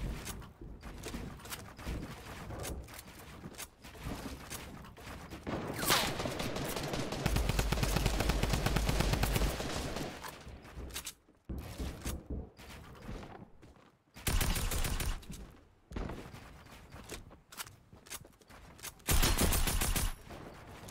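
Bursts of gunfire from a shooting video game, likely Fortnite, come in rapid volleys and single cracks separated by short pauses, loud and close, with no talk over them.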